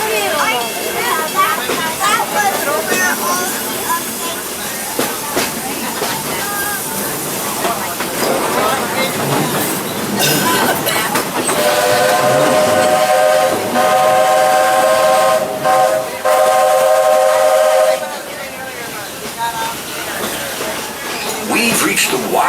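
Walt Disney World Railroad steam train rolling through the Magic Kingdom toward Frontierland, loud and continuous, with a sustained steam whistle blast in the middle and a narrator's voice over the ride.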